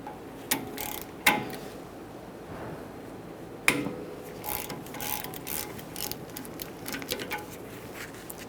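Wrench clicking as it loosens an 11mm brake bleeder screw on a 2015-2020 Ford F-150, a few sharp metallic clicks and ratcheting taps scattered over faint shop background, close and fairly quiet.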